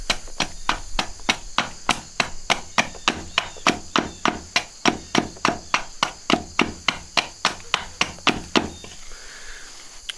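A knife cuts an angled notch into a piece of wood, producing about two dozen sharp, evenly spaced chopping knocks at a steady rhythm, close and fairly loud, with no talking.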